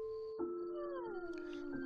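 A cartoon dog in a children's bedtime story gives a single drawn-out whining howl that bends downward in pitch, close and fairly loud, with no talk over it.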